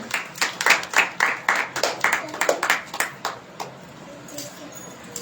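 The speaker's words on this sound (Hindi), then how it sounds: "सब जन ताली बजाएंगे।" A congregation claps along during a Hindi-language Christian worship service, with a steady run of fairly close, rhythmic hand claps that gradually thin out and fade to scattered claps before stopping.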